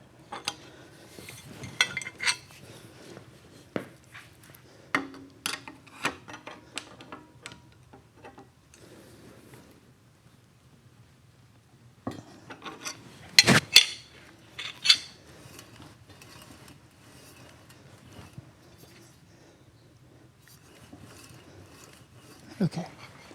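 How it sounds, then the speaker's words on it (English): Metal clinks and scrapes of a 36 millimeter wrench and other tools during bicycle assembly in a workshop, coming in scattered bursts of close, bright taps and knocks with quieter handling between. "I've had these wrenches a long time, so this is a 36 millimeter."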